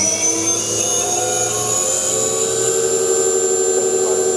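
A Bridgeport-Hardinge GX480 vertical machining center spins its spindle at 5,000 RPM, giving a steady, loud high-pitched whine with layered tonal hum, continuous and unbroken with no voices.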